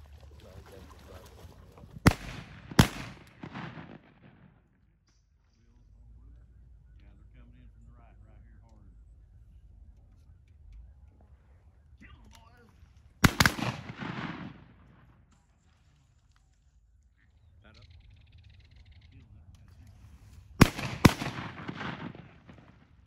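Shotgun blasts while duck hunting for greenheads, blackjacks and honkers: a pair of sharp, loud reports near the start, a single blast midway and another close pair near the end, with quiet marsh ambience and talk between the volleys.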